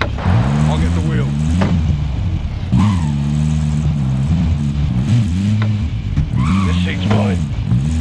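A vehicle engine in Call of Duty hums and revs in steady waves with a low, rumbling pitch, under a voice talking over it.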